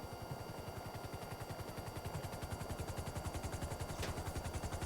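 Rapid automatic gunfire in a GTA-style city video game rattles in a steady, fast, even stream throughout, moderately loud over a dense background, with no talking.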